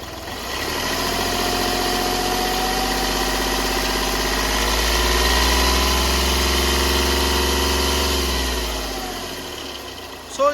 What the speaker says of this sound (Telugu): ఇంజన్ పరంగా చూసుకున్నట్టయితే CRDI డీజిల్ ఇంజన్ వెహికల్.